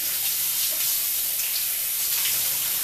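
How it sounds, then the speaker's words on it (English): Tap water runs steadily over a hollowed-out vegetable, rinsing the seeds from its middle, a continuous close broadband rush with no voices. "and then I wash it out to get all the seeds out"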